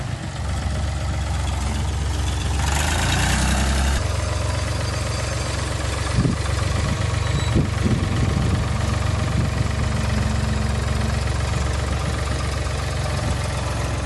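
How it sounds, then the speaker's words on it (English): A heavy tractor engine idles steadily with a low rumbling drone throughout, with a few brief knocks and clanks over the constant hum, while filling raised garden beds. "He's bringing the tractor."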